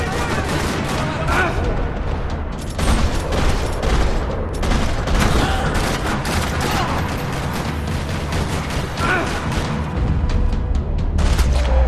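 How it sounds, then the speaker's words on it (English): Sustained gunfire echoes through a parking lot in the video game Max Payne 3, with dense overlapping shots and loud bursts running the whole time and no quiet gaps. "Another parking lot rattling with gunfire"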